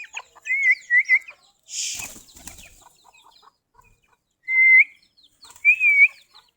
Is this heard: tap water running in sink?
no